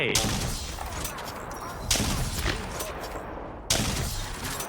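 Gunfire in the Apex Legends battle royale shooter, dense continuous bursts and impacts with a few sharper loud hits standing out, heard close with brief speech-like sounds mixed in.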